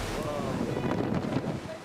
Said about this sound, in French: Sur l'Atlantique, le Norwegian Breakaway manœuvre dans la tempête, luttant contre des vagues hautes comme des montagnes